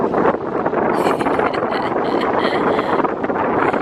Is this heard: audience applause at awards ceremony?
no